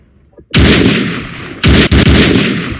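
M9K weapons pack guns firing in Garry's Mod: loud, close booming gunshots, one heavy blast followed by two more quick reports, each with a long rumbling tail.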